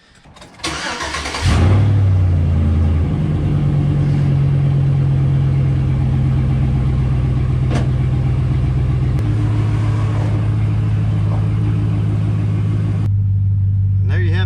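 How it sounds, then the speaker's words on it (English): A truck engine with over 240,000 miles cranks and catches, then settles into a smooth, steady, loud idle with a low, even rumble that drops slightly in pitch partway through. "This thing is running absolutely great. Engine's running super smooth, no ticks, no noises"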